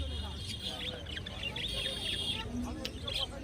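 Java sparrows, white and black, chirp at a roadside bird market beside Konnagar station: high, scattered tweets over steady crowd murmur and background chatter throughout.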